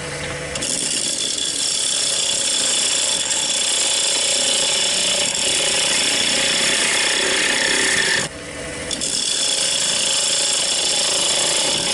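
A wood lathe turns a tenon on a witch's-cauldron lid, a loud, continuous whirring scrape of the tool on spinning wood with one short break near the end and no talk.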